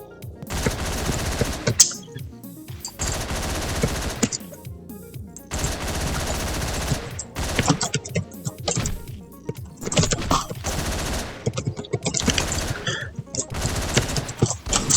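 Rifle fire in the top-down shooter Hotline Miami comes in loud, rapid bursts of shots with short pauses between them.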